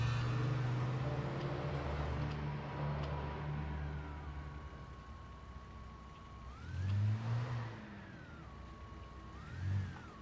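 A car engine in the video game Alan Wake idles with a low hum, then revs up twice in rising, swelling bursts, the second shorter, heard alone and fairly clear.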